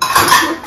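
Dishes, pots and pans clatter briefly as they are washed in a home kitchen after lunch, a short close burst of scraping and clinking.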